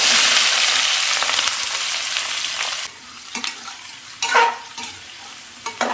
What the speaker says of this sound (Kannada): ಇವಾಗ ಕಟ್ ಮಾಡಿರೋ ಎಲ್ಲ ತರಕಾರಿಗಳನ್ನು ಇದರಲ್ಲಿ ಆ್ಯಡ್ ಮಾಡ್ತೀನಿ